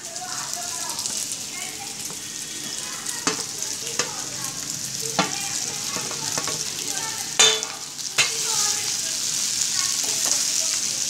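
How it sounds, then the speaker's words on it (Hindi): Cut pieces being mixed and fried in a pan, a continuous hiss of frying with intermittent scrapes and knocks of a spoon stirring, heard up close. "ये सारे इसमें मिक्स करके अच्छे से फ्राई करने हैं"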